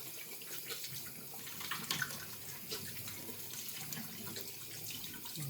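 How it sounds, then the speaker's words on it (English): Water runs from a tap into a sink during handwashing, a steady close splashing stream with slight shifts as hands move under the flow, continuous and moderately quiet, with no speech. "let me wash my hands"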